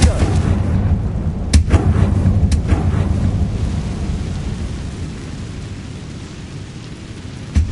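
Confringo blasting spell cast in the Hogwarts Legacy video game, a series of loud booming blasts with sharp cracks early on, then a long rumbling roar that slowly fades, ending with a brief burst.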